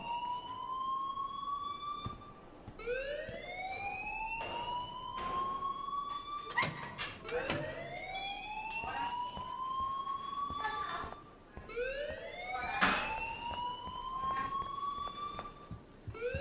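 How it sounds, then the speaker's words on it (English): A rising electronic alarm tone in the video game Life Is Strange whoops upward repeatedly, about every two seconds, loud and steady with sharp clicks and thumps mixed in. "please turn off that alarm since that's your job"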